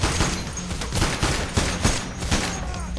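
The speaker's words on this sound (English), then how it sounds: "Rory's rocking out the shotgun." Shotgun fire in Payday: The Heist amid a chaotic heist firefight, several loud close blasts at irregular intervals layered over dense background gunfire.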